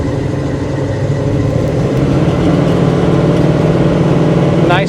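A 1967 Chevrolet El Camino with dual exhaust drones steadily and loudly from close by, its low engine note holding even throughout.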